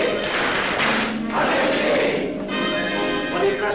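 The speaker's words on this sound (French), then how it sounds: "À moi, mes frères, par le signe, la triple batterie et l'acclamation" Members of a Masonic lodge give a triple battery of claps followed by a loud group acclamation, with a dense burst of voices and thumps from many people close by.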